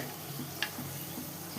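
Food frying in a pan, browning slowly, with a steady low sizzle and soft utensil scrapes, plus one brief clink partway through.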